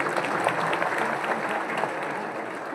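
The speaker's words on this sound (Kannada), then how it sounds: "ಜೋರು ಚಪ್ಪಾಳೆ ನಮ್ಮ ಹುಡುಗರಿಗೆ." A large audience at a gathering for the successor of Chinchani Math applauds loudly in a dense, steady wash of clapping that holds throughout, thinning slightly toward the end, with no talk over it.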